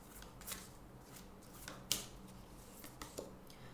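Moonology Oracle cards shuffled and drawn during a tarot reading, giving soft papery riffles and flicks with a few sharper snaps, close and fairly quiet, no talking.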